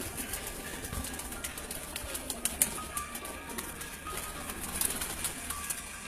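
Golden pigeons coo in a steady, moderately loud flock, their low murmuring calls overlapping throughout, with occasional sharper bursts and faint wing flutters.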